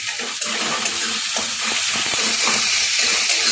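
Chopped tomatoes with green chilli sizzle loudly in a hot pan for masala dahi bhindi, a dense, hissing fry with soft stirring scrapes running throughout.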